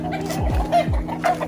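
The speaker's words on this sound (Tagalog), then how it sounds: "Marami siyang alagang manok." Chickens clucking close by in a backyard mini farm, a few short clucks and descending calls over a steady low hum.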